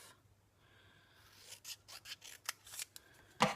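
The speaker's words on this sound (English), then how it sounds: "Then I'm just going to snip that in half" Scissors make a series of crisp snips and rasps cutting a punched Calypso Coral decorative paper label in half for card making, several short close cuts ending in one louder snip, with no talking.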